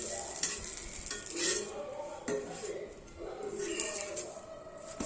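A cone dosa sizzles on a hot griddle over low heat as it is flipped, a soft frying hiss mixed with scraping and light metallic clinks of a spatula.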